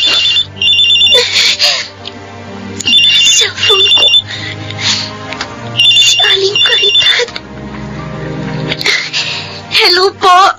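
A telephone rings repeatedly in bursts of electronic trills during a Filipino drama, with dialogue and background music running under and between the rings.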